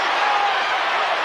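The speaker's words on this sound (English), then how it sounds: "Crowd getting buzzed" A boxing arena crowd at the Claressa Shields vs Lani Daniels bout buzzes with a steady, dense murmur and scattered cheers, loud and close throughout the brief moment.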